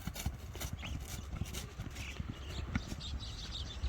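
A strong horse runs in Nooken, its hooves thudding in quick, uneven clip-clop beats at moderate distance, with faint bird chirps in the background.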